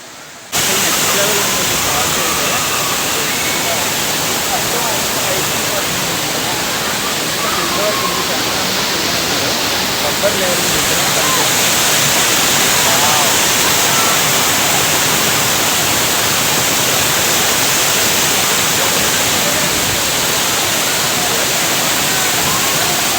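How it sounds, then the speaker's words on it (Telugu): Jari waterfalls near Mullayanagiri in Chikmagalur pour down in a loud, continuous rushing roar, heard close and steady throughout the whole stretch. "సో ఇది జరీ వాటర్ ఫాల్స్ గైస్."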